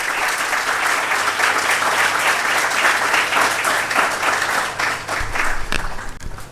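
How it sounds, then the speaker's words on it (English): Sustained audience applause fills a hall during the opening ceremony of a research institute's quality week, a dense, steady wash of many hands clapping at close range with no break, fading slightly at the end. "Let us give our quality director another round of applause."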